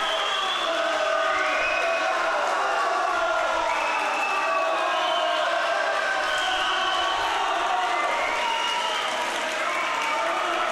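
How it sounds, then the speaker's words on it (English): A swim meet crowd cheers steadily from the stands and the pool deck, a dense, loud roar of voices and whoops that holds without a break the whole time. "everyone cheering now, both in the stands and on the pool deck"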